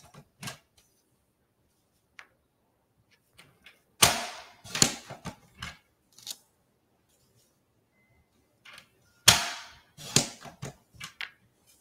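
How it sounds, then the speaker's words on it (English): Paper being cut into 1-inch strips, heard as sparse, close crisp snips and crunches in a few clustered bursts separated by quiet stretches. "We're going to cut this into 1-inch strips."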